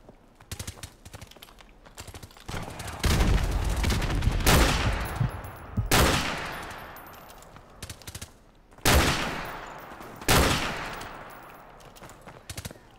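Covering fire from an LMG machine gun in Call of Duty: Modern Warfare Remastered, in four loud sustained bursts with short pauses between them, close and dominant, each burst ringing out into echo.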